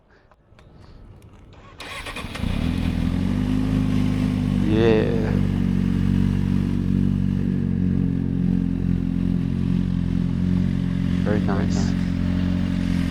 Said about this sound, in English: let's turn on the bike and give the engine a listen.